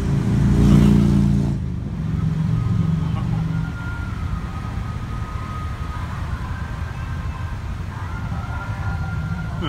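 Police escort vehicles in a Hanukkah car parade on a highway in Sunrise pass by with a loud engine swell at first, then settle into a steady traffic rumble with faint tonal siren-like lines.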